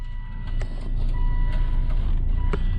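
A 2003 Volvo XC90 engine cranking and catching, a brief starter whir followed by a steady idle hum, with a faint electronic chime tone alongside.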